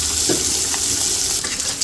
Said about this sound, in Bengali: এই যে মাছগুলো তো ভাইজে নিচ্ছি